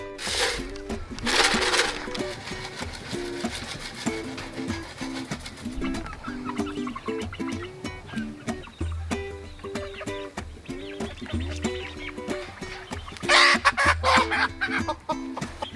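Splash Marans chickens cluck and murmur inside a coop, a steady flock chatter of soft clucks and calls close by, with a few louder bursts of activity near the start and end.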